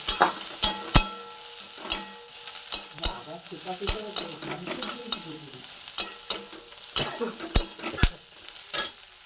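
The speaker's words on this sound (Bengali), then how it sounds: "এখানে পেঁয়াজটা কিন্তু লাল করে ভাজা হয়ে গেছে" Onions fried until reddish-brown sizzle in a pan, with sharp scraping clacks from stirring that come in an irregular, frequent rhythm over a steady background sizzle.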